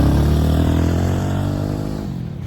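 A motorcycle engine revs loudly and close by on a ride across Morocco, a steady throaty drone with rich harmonics that holds strong before easing slightly toward the end, with no voices.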